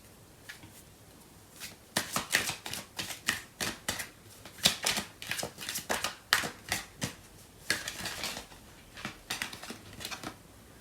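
Tarot cards are shuffled and handled up close, a quiet series of quick papery riffles and snaps, some in clusters and some alone, with no talk.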